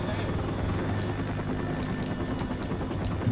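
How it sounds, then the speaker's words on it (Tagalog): Helicopter rotor drone inside the video game Left 4 Dead 2, a steady low throbbing hum with rhythmic blade chop, continuous throughout under game sounds. "Ingay helicopter eh."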